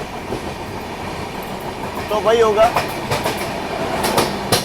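The Ahmedabad Gorakhpur Express runs on the rails near Bina Junction, a close, continuous rumble with rhythmic wheel clacks and a brief squeal, while someone talks over it.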